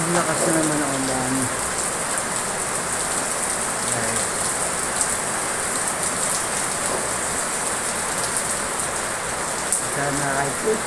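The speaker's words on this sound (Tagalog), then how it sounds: "Lakas na naman ang ulan." Heavy rain pours down in a dense, steady hiss of drops hitting surfaces, with faint voices murmuring in the background.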